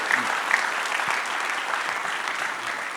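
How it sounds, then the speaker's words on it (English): A conference audience at a town hall claps steadily for a presenter, with even, moderately loud applause filling the whole stretch and little else heard. "Everybody give Dr. Jake a round of applause"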